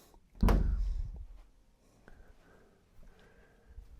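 A show-home closet door opening in a lake community house tour, heard as one close, loud thump followed by soft rattles and faint room noise.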